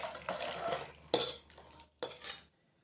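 Homemade goat meat curry being poured out of the cooking pot, with scraping metal spoon clatter and sloshing, clanking pot sounds in a few bursts, close and fairly quiet.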